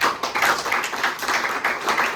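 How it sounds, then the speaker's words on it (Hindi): Audience applause during a patriotic speech honouring Bhagat Singh, with a dense, steady patter of many hands clapping at moderate loudness for about two seconds. "जोरदार ताली बजाओ।"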